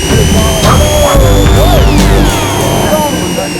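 A Kawasaki Versys X 300 adventure motorcycle on an off-road ride roars past close by, its loud engine revving and dropping in pitch as it goes by.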